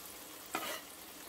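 Potato fritters frying in a pan give a steady, close sizzle throughout, with a brief louder hiss flaring up midway as more batter goes in.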